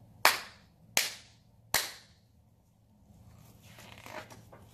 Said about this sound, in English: we're gonna do 3 big claps